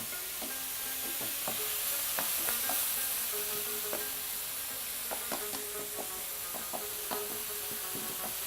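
Minced beef frying in a pan with browned onions, ginger garlic paste, cumin and salt, a steady sizzle under repeated scraping and knocking of a spoon stirring and pushing the mixture.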